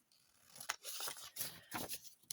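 Scissors cutting through journal paper, quick crisp snips and a rustling slide of the blades, close and fairly faint, with no one talking.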